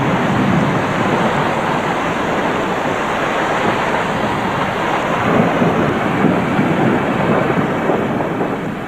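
A summer rainstorm on a coral cay hisses with heavy, steady rain and wind, a dense, loud wash of noise that holds for the whole stretch with no voices.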